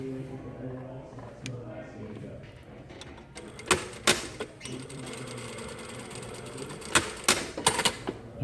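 Sewing machine running in bursts while stitching the hem of an unlined jacket vent at a one-centimetre seam allowance, a steady mechanical whir with sharp clicks and clunks between runs, fairly quiet and close.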